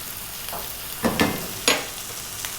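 Two tablespoons of ginger garlic paste hit a hot pan for chicken curry, giving a soft steady sizzle with a few louder bursts of spitting and stirring, and no talking.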